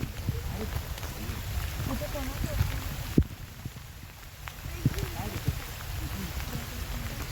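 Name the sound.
rain falling on fort trail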